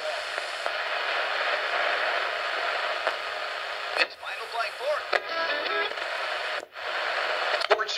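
An AM radio tuned to a station plays steady broadcast sound under hiss, briefly interrupted by tuning crackles and dropouts before settling again.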